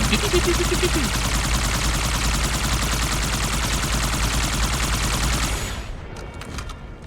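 A Covenant turret in Halo 2 fires a dense, continuous stream of rapid shots for several seconds, loud and close, then cuts off into quieter game sounds.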